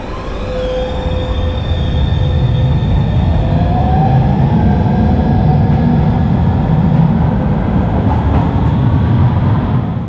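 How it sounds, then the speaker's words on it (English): A train in Genoa, Italy rumbles loudly and steadily, with high metallic wheel squeals drifting in pitch over the continuous roar. "Here I'm leaving the train again."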